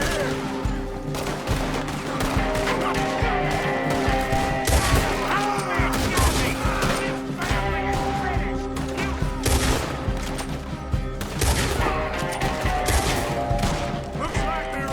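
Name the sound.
gunfire in the video game Red Dead Redemption 2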